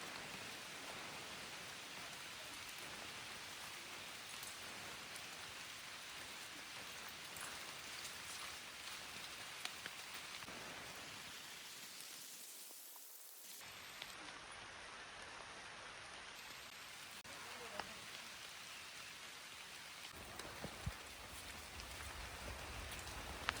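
Heavy rain pours steadily through the Maredumilli forest as a dense, even roar of falling water that stays constant and fills the whole scene.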